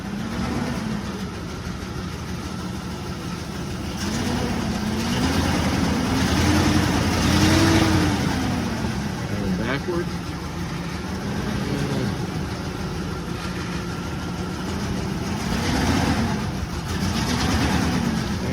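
A truck engine, just jump-started after sitting unused for a while, idles roughly with a steady low rumble and periodic surges in revving; someone briefly speaks over it.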